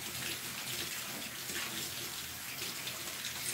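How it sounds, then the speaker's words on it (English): Taro rinsed under a running kitchen tap, a steady continuous splash and hiss of water with no pauses, fairly soft and alone without speech. "under running water, of course."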